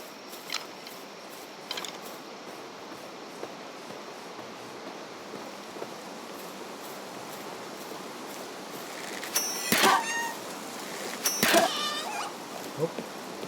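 Cat creatures in Palworld give a couple of sharp, wailing cries late in the stretch, set against a steady outdoor game ambience with faint scattered clicks and thumps.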